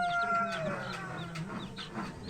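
A hen clucks repeatedly in short, close, fairly loud calls while pecking at her chicks, with no talking.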